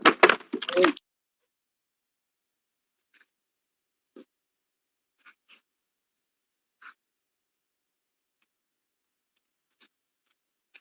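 A loud clattering crash at the start, then near silence broken by a few faint, scattered ticks and small knocks.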